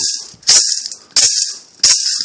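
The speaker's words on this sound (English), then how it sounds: "a cha-cha, maraca. This one's made out of coconut with palo, with wood." A maraca made of coconut and wood is shaken in three sharp, loud bursts of dry rattling, each fading before the next, with no voices.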